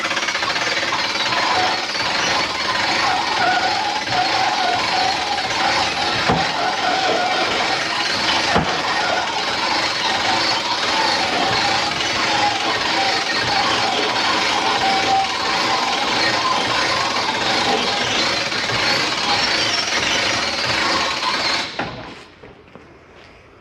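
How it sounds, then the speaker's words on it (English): Hand crank raising the pop-up roof of a StarCraft Venture 2407 camper, a steady, loud grinding and clattering that runs continuously for about twenty seconds before stopping abruptly. "now I'm going to crank the unit up from here"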